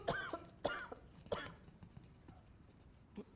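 Several harsh coughs in quick succession from someone who swallowed a cough drop wrong, close and fairly loud, followed by a quieter cough near the end.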